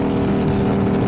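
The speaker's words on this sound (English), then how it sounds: "for you guys to listen to the exhaust" A steady, loud exhaust drones at an even pitch from a 2024 Harley-Davidson Pan America motorcycle with a Toce exhaust, with no talking.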